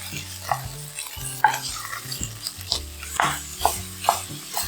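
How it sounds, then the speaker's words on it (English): Ground beef sears in a hot pan for nachos, a steady sizzle and frying crackle running throughout, with a few sharper scrapes and taps from stirring or pressing the meat, close and fairly loud with no talking. "You can get the best searing when you press the ground meat into the pan and make a layer. Flip and let the other side sear."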